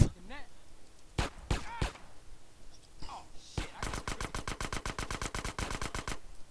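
Gunfire in GTA San Andreas: a few separate loud shots, then a fast steady burst of automatic fire running to the end, with a voice briefly heard early on.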